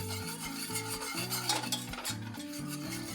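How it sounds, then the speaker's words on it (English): Sugar, salt and milk whisked together in a bowl, giving a steady scraping, swishing rhythm of the whisk against the sides, close and moderately loud with no talking. "Whisk first to get any lumps out."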